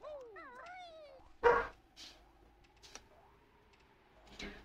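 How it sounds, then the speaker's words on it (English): Dogs in the game Banjo Kazooie yip and bark in a few short bursts, mixed with springy game effects and faint whimpering tones. "Those are just the dogs."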